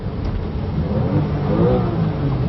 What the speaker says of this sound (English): You can hear that yowl from the engine.